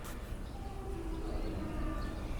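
Birds sing faintly outdoors in a breezy setting at a grandparents' home, with thin chirps and coos sitting far back under a steady wash of wind and ambient noise.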